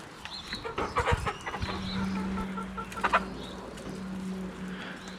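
Backyard chickens in a home coop cluck in short, irregular bursts at moderate distance over a steady low hum, with no voices.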